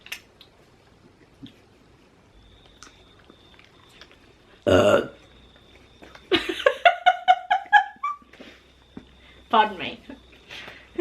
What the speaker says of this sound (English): Everybody burps once in a while.